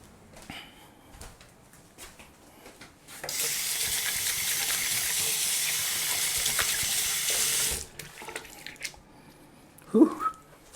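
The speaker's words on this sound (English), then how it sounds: "Gotta wash my hands" Hands are rinsed under a running tap in a guitar workshop: a steady, fairly loud rush of water for about four and a half seconds, framed by small handling clatters and a brief breathy vocal sound near the end.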